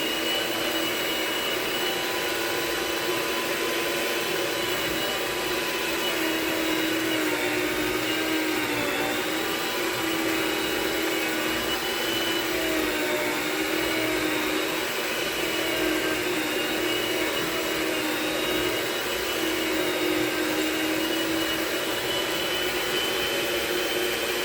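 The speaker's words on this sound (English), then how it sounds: "you can turn your mixer up to medium-low heat," Electric stand mixer running at medium-low speed, beating cheesecake pie filling in a bowl, giving a steady, continuous motor whir with a whooshing drone that holds evenly and close throughout, with no talking.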